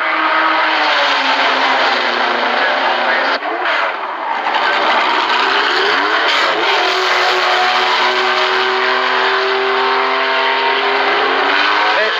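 A race car, the No. 11 driven by Jacky Ickx and Derek Bell, pulls out of the pits at the 1975 Le Mans 24 Hours. Its engine roars loud and close without a break, with rising and falling pitch sweeps around the middle.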